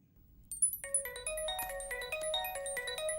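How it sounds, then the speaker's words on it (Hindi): A phone ringtone plays indoors, a melodic electronic tune of repeated bright tones that starts after a short pause and keeps ringing steadily, fairly loud and with no talk over it. "फोन कब से बज रहा है,"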